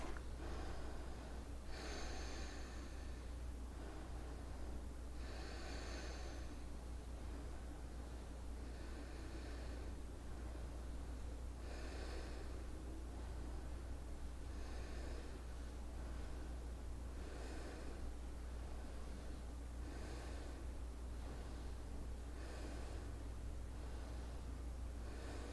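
Slow, rhythmic breathing during a home yoga exercise, each soft inhale and exhale recurring every few seconds, faint and close over a low steady background hiss.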